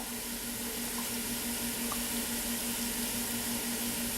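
A steady, dense hiss of French fries frying in hot oil, even and unbroken throughout, with no voices.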